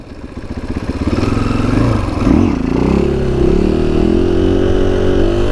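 A 2020 KTM 500 EXC-F dirt bike engine runs loud and close while riding, holding a steady buzzing drone that rises and shifts pitch with throttle changes throughout.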